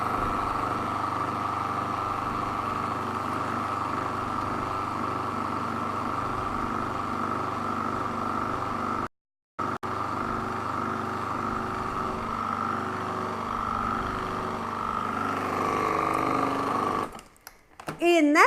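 A blender whirs steadily through cheesecake filling made with yogurt, a loud continuous motor drone that cuts out briefly midway, starts again and winds down near the end.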